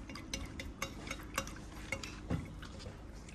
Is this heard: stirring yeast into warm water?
yes